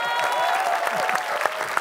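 A studio crowd at a quiz show claps in a brief, dense burst, mixed with cheering voices and some louder individual claps standing out near the end.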